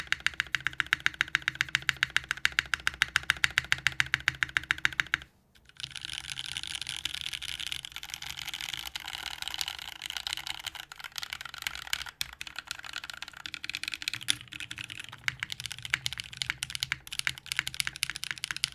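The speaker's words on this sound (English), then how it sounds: "Warm up typing test." Rapid, continuous clicking and clacking of keys being typed on a newly built OXALYS80 mechanical keyboard, close and steady, with a brief pause near the five-second mark before the fast typing resumes.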